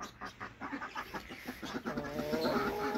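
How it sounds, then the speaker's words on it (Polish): A hen clucks and sings softly close by, a series of short rhythmic clucks that give way to a longer, drawn-out warbling call toward the end. "To możliwe, że niedługo od tej kurki jajka będą, bo już tu słyszycie, że trochę pośpiewuje"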